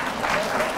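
An audience claps at a Buddhist temple gathering, a brief, dense burst of many hands applauding together, steady and fairly close.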